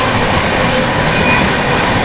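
Humsafar Express passenger train running fast alongside and overtaking the Vikramshila Express, a steady loud rumble of wheels and carriages with faint rail clatter, heard from on board with no talk.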